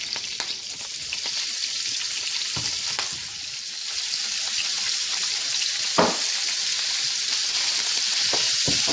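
Ground meat sizzles loudly in Haitian yellow butter, a bright constant hiss with occasional sharp pops and spatters and a few soft utensil taps, heard up close and without any voice.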